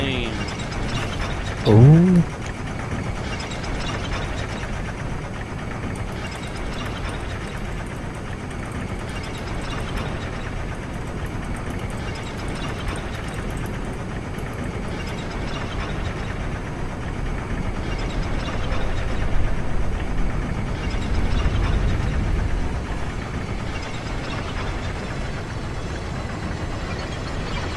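Elevator in Dark Souls 2 grinding along with a steady mechanical rumble and faint rhythmic ratcheting clicks over a long stretch, a brief voiced exclamation near the start.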